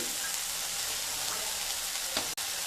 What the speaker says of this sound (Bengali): এবার দিয়ে দেব দুটো বড় সাইজের কেটে রাখা টমেটো, দিয়ে মিডিয়াম টু লো স্টিমে মশলাগুলোকে ভেজে নেব